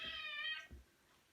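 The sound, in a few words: cat meowing in kitchen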